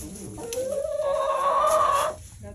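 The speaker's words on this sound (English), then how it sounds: "The chickens are all in here." Chickens cluck and call nearby, one drawn-out, rising squawk standing out over softer clucks in a homestead's former dairy barn milking room.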